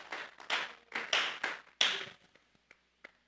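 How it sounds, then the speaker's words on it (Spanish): A church congregation claps in a few loud bursts of hands that thin out and stop, leaving scattered single claps in a quiet, reverberant room. "Vamos a regalarle ofrenda de palmas al Dios de la gloria"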